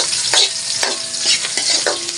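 Chicken feet and chicken legs sizzle loudly in a hot pan of street food while a utensil scrapes and stirs in quick, repeated strokes, with a constant frying hiss underneath.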